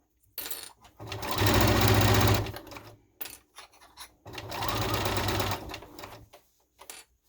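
A sewing machine runs a straight stitch on a scrub hat in two bursts of rapid, steady mechanical whirring about a second or two long, close and loud, with brief quiet handling noises between them.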